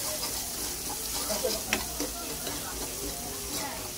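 Salt and spices roasting in a hot pan for batata vada sambar: a continuous bright sizzle with scattered stirring scrapes and light utensil taps, close and fairly even throughout.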